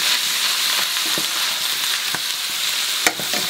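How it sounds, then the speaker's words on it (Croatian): Sauerkraut and onion sauté in a pan with a steady, close hiss of frying, broken by light clicks of a spoon stirring and one sharper knock near the end. "Kad smo dodali kupus, obavezno ga promiješati, da se pomiješaju luk"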